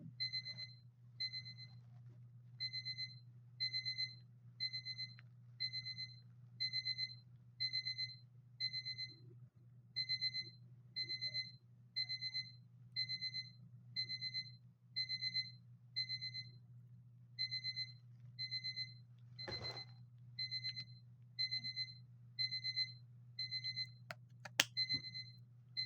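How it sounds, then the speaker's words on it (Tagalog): A phone alarm beeps in steady, evenly spaced bursts of bright tones for nearly half a minute over a low constant hum, with no one talking. "Alarm yung phone ko."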